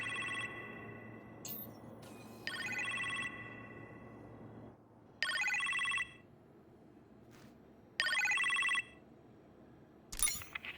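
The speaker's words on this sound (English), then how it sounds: "You appear to have a phone call in the kitchen, sir." A telephone in a kitchen rings in the Iron Man VR video game, several loud electronic ring bursts separated by pauses over a steady low background hum.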